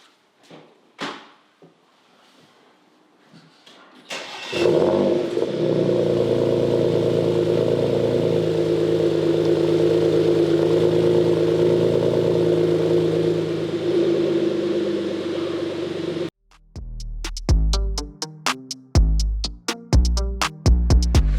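A Porsche Macan Turbo engine with a muffler bypass turns over and catches on a cold start, settling into a loud, steady rumbling idle for about ten seconds, then cuts off, followed by a series of sharp clanks.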